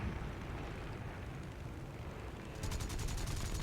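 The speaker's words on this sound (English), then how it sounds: "look at all this anti-aircraft fire coming up" Anti-aircraft flak in the War Thunder flight game booms as a dense, continuous roar of distant bursts under steady engine drone, with a rapid fluttering rattle joining near the end.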